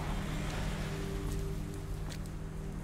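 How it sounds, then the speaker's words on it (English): Rain falls steadily in The Operator video game, a soft continuous patter with a low hum beneath and a few sharper drops standing out. "Of course it's raining."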